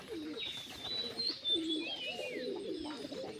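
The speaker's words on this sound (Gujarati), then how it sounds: "છે મારા કબૂતર" Hyderabad pigeons cooing nearby, soft repeated low coos over a quiet background, with a few thin high chirps mixed in.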